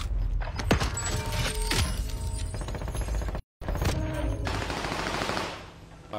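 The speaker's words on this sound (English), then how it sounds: "But the AK-47, you is bull." AK-47 fire in a video game, rapid bursts of shots with mechanical clatter and shattering debris, a brief silent gap, then more sustained firing that fades out near the end.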